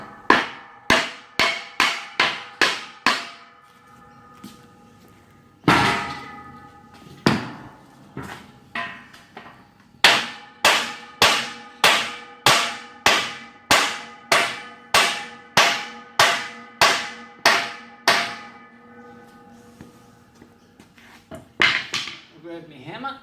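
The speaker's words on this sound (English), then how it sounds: "Grab my hammer." A hammer drives a mid post into a horse stable front panel built from pipe fittings, with timber or bamboo infill. It comes as sharp, ringing metallic blows, first in quick bursts, then a long, steady run of evenly spaced strikes, loud and close.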